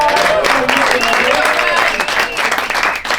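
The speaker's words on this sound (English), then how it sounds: "give Greg a big round of applause?" A small parlour audience at a magic show applauds a volunteer coming up, a full, close burst of clapping with some voices and cheers woven through.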